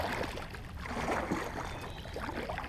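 Soft, continuous water sloshing and gurgling against a kayak being paddled lightly, with a faint trickle and no voices.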